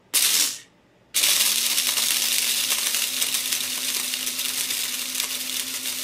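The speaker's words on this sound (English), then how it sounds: "you can listen and hear the change in the corn and hear how it's hitting in there" Corn kernels tumbling and rattling inside an electric popcorn popper, a dense continuous clattering hiss over a low motor hum, close and steady after a short burst and brief pause at the start.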